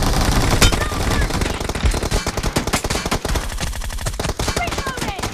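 Rapid machine gun fire in a video game, dense sustained bursts of gunshots at close range with a voice calling out over the shooting.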